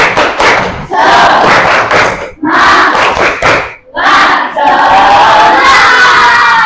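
A primary school class performs the tepuk semangat spirit clapping chant, loud bursts of children's shouted chanting and clapping in several rhythmic phrases separated by brief pauses, the last phrase longer and sustained.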